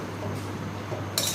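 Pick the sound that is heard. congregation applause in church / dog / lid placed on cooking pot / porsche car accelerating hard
lid placed on cooking pot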